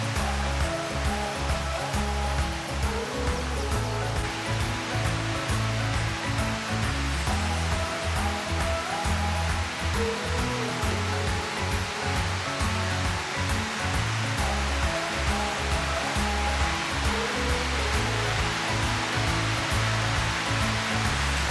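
Water roars steadily at the Tuorno waterfalls, a cascade feeding a stream through dense, lush woodland in southern Italy. The rushing is loud, broadband and continuous throughout, with no voices.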